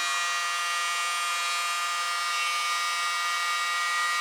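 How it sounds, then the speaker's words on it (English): A small air blower attachment used on fluid art paint gives a steady, high-pitched whirring hiss that holds constant and close throughout. "I love my new little blower attachment"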